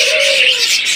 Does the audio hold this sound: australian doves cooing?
yes